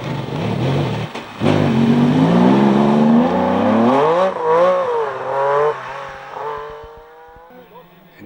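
A Peugeot 306 Maxi rally car running on only one differential passes close and loud, engine pitch climbing and wavering through gear changes before fading away, with a commentator talking over it.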